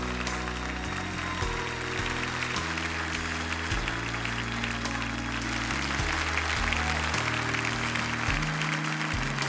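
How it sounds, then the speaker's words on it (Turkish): Concert audience applause in a hall, steady and loud throughout, with musical tones underneath. "Daha bir kere kol tutamız dostlar, alkışlarınız ile."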